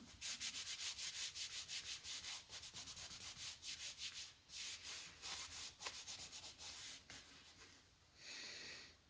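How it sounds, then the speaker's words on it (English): Steel wool scrubbed back and forth over an SKS rifle's wooden stock stripped with paint stripper, a close, rhythmic rasping rub in quick repeated strokes that slows and loosens toward the end. "Gonna give this a little scrub with some steel wool just to help kind of loosen off any of the varnish or finish that may have lifted."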